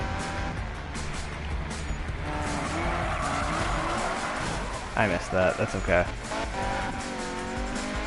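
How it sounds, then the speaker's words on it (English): A Mazda MX5 drifts in a racing video game, its engine droning under sustained tire squeal that wavers through the slide, while a player talks over it. "this car is just phenomenal for drifting."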